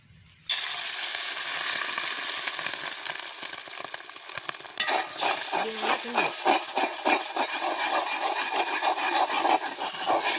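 An egg fries in a small amount of oil in a pan, giving a loud, close, continuous sizzle that begins suddenly, with scraping and stirring noises added partway through.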